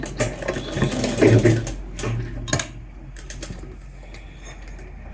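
Sewing machine stitching a churidar, a short close run of rapid mechanical stitching that slows and stops, followed by faint clicks and handling noises.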